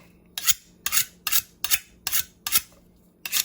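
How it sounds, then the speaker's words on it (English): A dull kitchen knife is sharpened in quick, even strokes, seven raspy scrapes in a steady rhythm, close and fairly loud, with no talking. "So this is my way of sharpening my knife."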